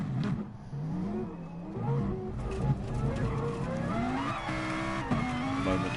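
A race car oversteers and slides in a racing video game, its engine wailing and shifting pitch over screeching tires, with other car engines droning alongside.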